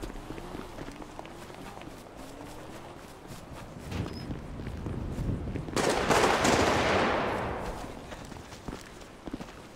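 Rapid gunfire bursts in GTA roleplay crackle amid shuffling footsteps and scattered game noise, with a dense louder blast of shots in the middle.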